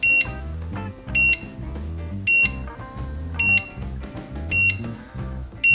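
A heat press timer beeps five times at an even pace, each a sharp electronic tone cutting through steady background music.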